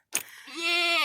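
A goat bleats once in a doe pen on a breeding farm, a close, loud, wavering cry that swells after a short breathy onset and holds steady to the end.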